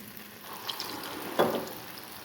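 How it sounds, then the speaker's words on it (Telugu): Garelu, lentil fritters, dropped into hot oil, giving a steady close bubbling sizzle that swells briefly as fresh batter goes in. "చేత్తోనే హ్యాపీగా ఇలా గారెలు వేసేద్దాం"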